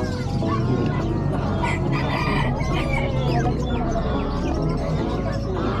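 Roosters and gamefowl, including a talisain, crow and cluck continuously at a busy outdoor pet market, loud and close with overlapping calls and a dense crowd din underneath.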